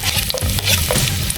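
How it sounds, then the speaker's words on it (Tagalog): Ginger sautéing in hot cooking oil, a steady close sizzle and crackle with faint stirring scrapes throughout, no voices. "Mag-inisa muna tayo guys."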